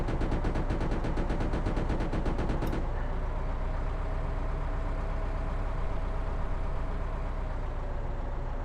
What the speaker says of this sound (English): Switch to the machine gun. Miss the targets wildly.